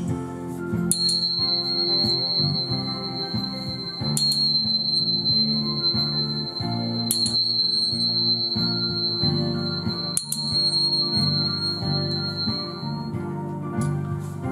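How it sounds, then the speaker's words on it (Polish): A set of Energia 1 aluminium tuning forks rings with a sustained, steady pure tone, struck again several times so fresh attacks overlap the long ringing tone, loud and close over a soft musical background. "mogę zastosować oczywiście zestaw kamertonów Energia 1 z aluminium, który ten zestaw jest po prostu bardziej głośny, bardziej donośny."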